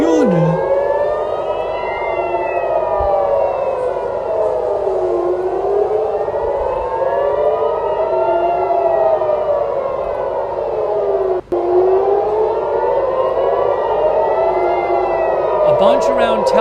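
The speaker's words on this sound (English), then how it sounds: "Sirens right now." Multiple air raid sirens around Tel Aviv wail together, their pitches slowly rising and falling in overlapping cycles, loud and continuous throughout.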